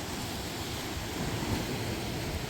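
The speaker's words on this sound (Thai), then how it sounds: "ขึ้คลื่นแรงมากนะฮะตรงนี้เป็น โขดหินนะครับ" Strong winter surf and gusty wind at Hua Hin beach, waves breaking against rocks near the fishing pier, a steady, dense roar of water and wind noise filling the whole stretch without pause.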